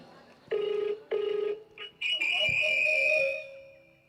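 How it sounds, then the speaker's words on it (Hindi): A phone rings with an incoming call from mom: a few short electronic tone bursts, then a longer sustained ringtone, fairly close, with people talking over it. "अबे उठा ले, मम्मी का फोन है।"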